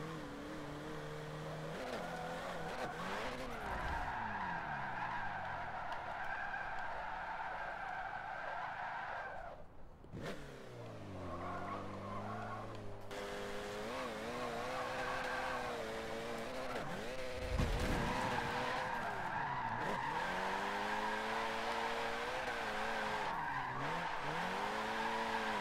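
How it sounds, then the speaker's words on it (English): Tires skid and squeal through a long drift of a turbocharged Nissan iDx Nismo in Forza 7, engine revving loudly with sweeping pitch changes and a brief break near the middle, steady and close throughout. "we're gonna get this reverse jump drift entry"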